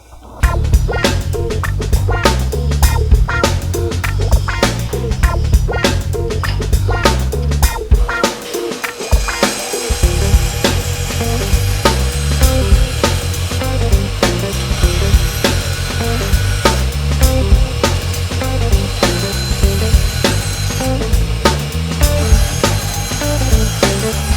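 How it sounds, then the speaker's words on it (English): A bandsaw roughing out circular shapes from wooden blanks, a loud, steady buzzing cut that runs almost continuously close by, with only a brief dip near the middle. "just trace out the circle onto each blank and then just rough them out of the bandsaw"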